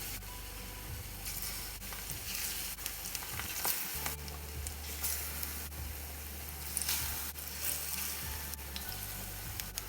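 Plantains sizzle and fry in a pan of hot oil with a steady, close crackling hiss and occasional louder pops, with no talking.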